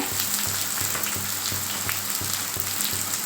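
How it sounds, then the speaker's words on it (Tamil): Loud, continuous sizzling of onions, dried chillies, garlic and curry leaves frying in oil close by, with a faint rhythmic low thumping under the crackle. "இப்போ வெங்காயம் காஞ்ச மிளகா பூண்டு கருவேப்பிலை எல்லாம் போட்டு நல்லா வதங்கணுங்க"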